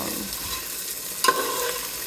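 Chickpeas frying in a hot pot, an even close sizzle and hiss with one brief sharp metallic tap partway through.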